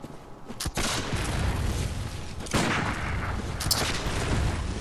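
Enemy gunfire in Bloodborne's Forgotten Woods: a few sharp, loud shots crack out at irregular intervals over a steady, rumbling game background.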